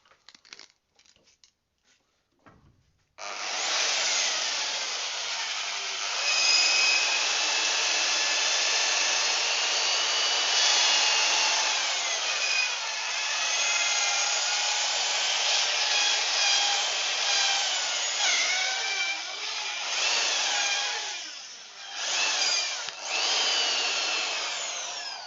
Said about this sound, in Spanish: lo terminamos con un poco de lija.